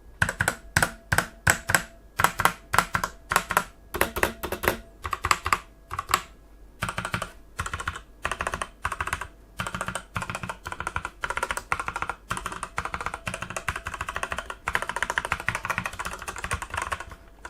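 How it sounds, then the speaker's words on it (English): Steady typing on an AOC AGON GK500 mechanical gaming keyboard with Outemu red switches, a close run of crisp, evenly spaced keystroke clacks that grows denser and faster toward the end, with no talking. "Looking at some of the noise from the keyboard"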